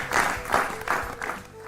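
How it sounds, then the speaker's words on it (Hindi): A burst of applause from a quiz show audience, clapping in several swelling waves that fade toward the end. "हो जाए जोरदार तालियां"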